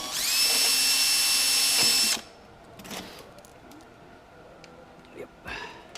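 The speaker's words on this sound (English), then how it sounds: "Let's drill a pilot hole first." A power drill bores a pilot hole into the hull of an RC boat, a loud high whine lasting about two seconds, then stopping, followed by quiet handling clicks and clatter.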